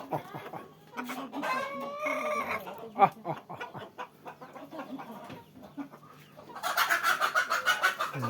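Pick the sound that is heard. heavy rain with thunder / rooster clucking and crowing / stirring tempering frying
rooster clucking and crowing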